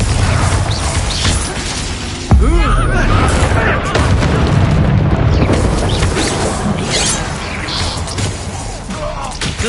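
Confringo blasting-curse explosions in the Hogwarts Legacy video game: repeated booms and crackling bursts over a dense, continuous wash of combat sound, with a strong hit around the third second.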